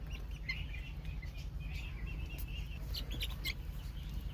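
Chicken chicks raised at home peep in quick, faint, scattered high chirps, repeated throughout over a steady low background hum.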